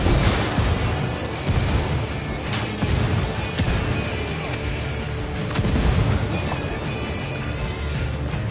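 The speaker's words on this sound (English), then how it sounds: "Call Pakatari for some mortar fire." Mortar fire in the video game Ghost Recon Wildlands: repeated loud, deep booms and crashing impacts roll through a dense battle soundscape, with several heavy blasts spaced across the stretch and no speech.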